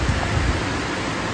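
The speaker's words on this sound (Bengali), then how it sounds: "এখানে বৃষ্টি পড়ছে" Heavy rain pouring outside a house in Medinipur during Kali Puja, a dense, loud, continuous wash of noise with no other sounds over it.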